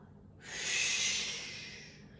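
A single long exhale through the nose or mouth during the cat-cow yoga pose, a soft airy hiss that swells and fades over about a second and a half, close and alone.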